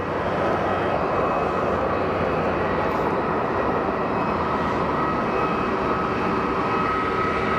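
EasyJet airliner engines roaring steadily through a go-around at Geneva Airport, a loud, continuous broadband jet rumble that holds at a constant level throughout with no voices.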